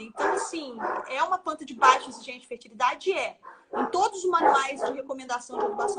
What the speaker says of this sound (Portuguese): pessoal, desculpem pelos cachorros, tá?